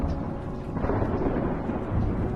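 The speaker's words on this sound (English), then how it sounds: "Look at that lightning strike that place in the background." A lightning strike with rolling thunder in the video game The Banner Saga, a loud, dense low rumble that fills the whole moment without letting up.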